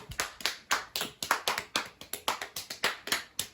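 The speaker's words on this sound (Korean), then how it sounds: "불안했지만 성공! 박수!" Children at a winter church camp clap in a small group after a Bible verse recitation. The crisp, quiet claps are somewhat irregular, in quick bursts, with no talk over them.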